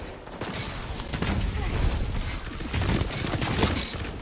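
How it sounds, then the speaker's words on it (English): Shotgun blasts ring out during a Destiny 2 match, several sharp bursts in quick succession over dense game noise and muffled effects. "Oh my god, the shotguns again."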